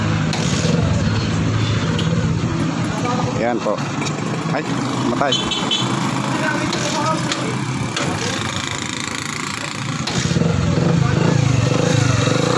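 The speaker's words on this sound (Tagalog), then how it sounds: "Ating paanda rin na. Para marinig ko ano yung andar ng makina nya." A Kawasaki Bajaj CT100 motorcycle engine runs after a top overhaul, idling steadily close by and swelling louder near the end, while people talk over it.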